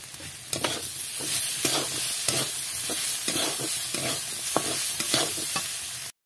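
Whole onion pieces and spices fry in a pan, a steady loud sizzle broken by repeated scraping strokes of stirring, with no voices.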